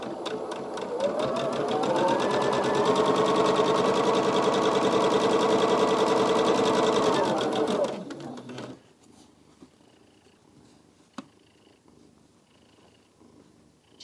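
A domestic sewing machine stitches quilt blocks in a long, steady whirring run of about eight seconds, then stops, leaving a quiet room with a single faint click afterward.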